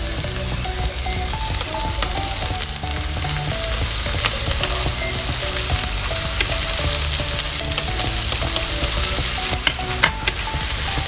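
Chicken sisig being stirred with a mayonnaise, vinegar, sugar and pepper sauce in a hot pan makes a continuous sizzle with scraping and stirring sounds, close and steady, with no talking.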